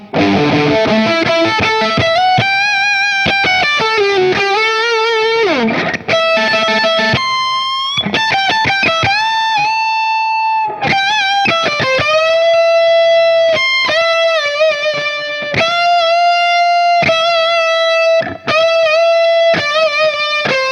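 A loud, distorted electric guitar, a cheap Donner model, plays choppy riffs alone, mixing quick picked notes with held chords and brief pauses.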